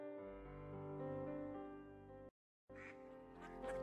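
Ducklings quack in the Teddy Floppy Ear Kayaking video game, short bright calls after a brief silence that follows a sustained tonal music bed.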